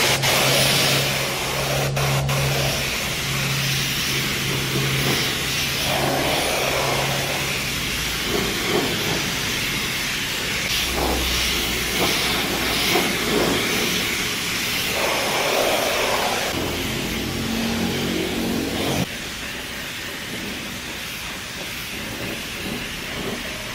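Spray gun laying a light dust coat of chrome paint on a wheel, a loud steady hiss of atomised spray running continuously for the whole stretch and dropping slightly in level near the end.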